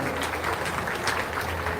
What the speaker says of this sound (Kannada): ಜೋರಾಗಿ ಚಪ್ಪಾಳೆ ತಟ್ಟಬೇಕನ್ನತಕ್ಕಂಥ